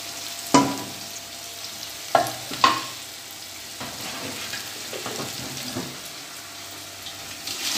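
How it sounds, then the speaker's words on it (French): Water goes into a pot of fried meat and condiments for a Cameroonian peanut and okra sauce, a few sharp clanks followed by a steady splashing hiss that continues at a moderate level. "Ce que l'on va faire, c'est qu'on va rajouter de l'eau et laisser bien cuire tout ça."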